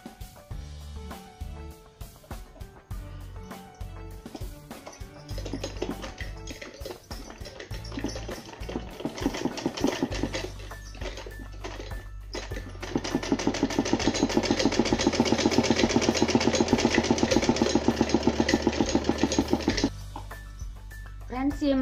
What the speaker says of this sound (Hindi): इसको मैं इस तरह से फोल्ड करते हुए इस पर सिलाई चला लूंगी।